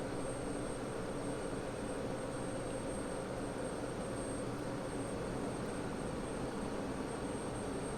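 The F-16C jet engine in the DCS flight simulator spools up from cutoff in a steady loud roar, with a constant high whine above the rumble and no talk.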